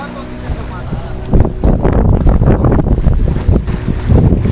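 On a boat ride out to Tsunami Island on the Konkan coast, loud wind buffets the microphone over a continuous rushing roar of water and motion, dense and close.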